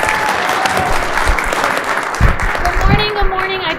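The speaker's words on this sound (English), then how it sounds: "give a round of applause to Daleen." Audience applause after an introduction at a mortgage business event, a steady dense wash of clapping with some voices mixed in, sustained for several seconds at fairly close range.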